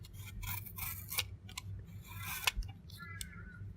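Waste trimmed from a crankbait blank, heard as a series of short, close, crisp snips and scrapes spaced irregularly over a low steady room hum.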